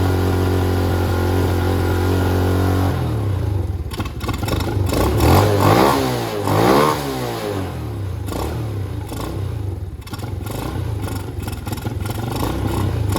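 A small engine fitted with a Nibbi carburetor runs loud and near, holding a steady idle at first and then shifting into uneven, rising and falling revs and clattering as the idle screw is adjusted.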